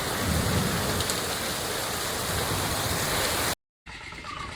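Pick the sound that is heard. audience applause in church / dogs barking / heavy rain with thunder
heavy rain with thunder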